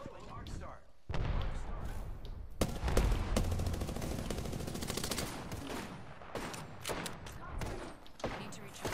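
Gunfire in Apex Legends, repeated close, loud rapid shots and impacts in dense bursts across the whole stretch, with a player's voice talking over them.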